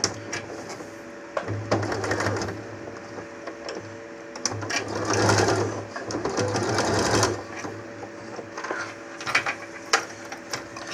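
Sewing machine running a seam along a travel cosmetic bag, a steady mechanical hum broken by several short pauses and restarts, with faint handling clicks at close range.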